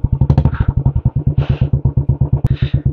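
A motorcycle engine thumps loudly and close in a steady rapid pulse, with brief hissing bursts over it from the ride on a mountain road.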